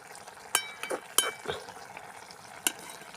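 Cinnamon and chillies sautéing in a pan for a home lunch, with faint frying hiss and a few sharp clinks and scrapes of stirring scattered across the short stretch.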